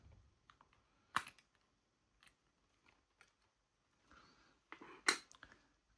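Plastic case of a 2023 Toyota Tundra key fob being pried apart, a few sharp clicks and snaps spaced out between quiet gaps, close and dry.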